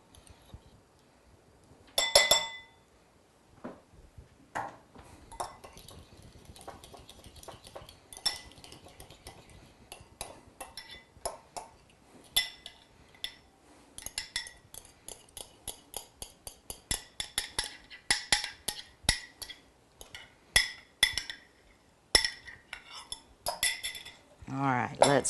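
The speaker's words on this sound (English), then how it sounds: "take about a teaspoon and whisk it in to get the eggs used to the heat so it doesn't curdle" A metal whisk clinks rapidly against a bowl as hot liquid is whisked into eggs, starting with a short burst and then building into long, busy stretches of quick tapping and scraping.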